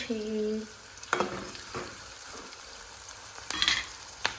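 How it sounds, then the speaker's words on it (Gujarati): Onions hiss steadily in hot oil in a home kitchen, a soft constant sizzle broken by a few sharp clicks and scrapes of a utensil in the pan, with a brief tonal sound at the start. "હવે આપણે તેલ ગરમ કરવા ગાઈસ તો આપણે ડુંગળી નાખી દીધી"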